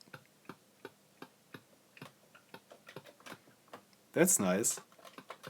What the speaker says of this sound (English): they actually added a key click sound that is coming from the speakers to the Max Basic